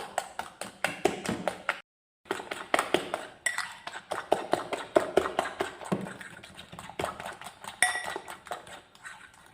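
A fork beats sugar into cake batter for a steamed Milo sponge, giving rapid, repetitive clinking ticks against a bowl, close and steady with one brief pause.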